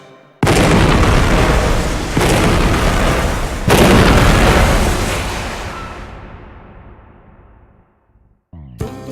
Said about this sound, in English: The mining process begins with blasting of marble bedrock.